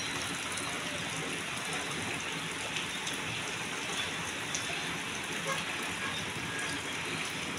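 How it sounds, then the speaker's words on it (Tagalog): Heavy rain falls in Nundayan, Sabonete as a dense, even roar of drops on surfaces that holds steady and fairly loud throughout. "Kusog uwan sa Nundayan, sa Sabonete."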